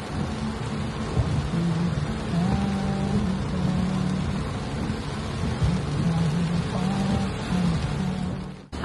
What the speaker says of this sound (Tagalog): naabutan kami ng ulan. Perfect timing. Sobrang lakas.